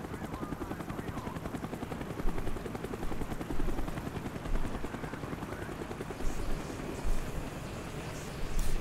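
Helicopter rotor chop in Call of Duty Black Ops on Rebirth Island, a steady pulsing drone running throughout, mixed with scattered sharp game effects and occasional louder bursts.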